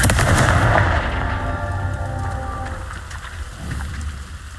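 In Hogwarts Legacy, Expelliarmus and Confringo spells are cast in combat, with a loud crackling burst and a rumbling impact that trails off into sustained hissing noise.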